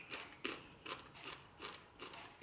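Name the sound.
biting and chewing crunchy sautéed broccoli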